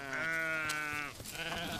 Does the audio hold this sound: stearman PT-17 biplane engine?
no